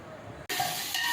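About three-quarters of a kilo of sliced onions, five large ones, drop into hot oil for a Kerala-style biriyani, setting off a sudden loud, steady sizzle that carries on without pause.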